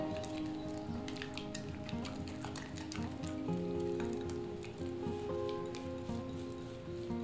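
Sourdough starter being mixed from flour and water gives off a wet, squishy crackle, continuous and faint, like soft sticky stirring close by.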